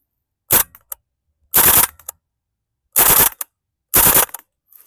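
A WE Airsoft MP5SD gas blowback rifle fires in burst mode, giving four loud, sharp bursts of rapid cracks with clacking action noise, separated by clear silent gaps of about a second.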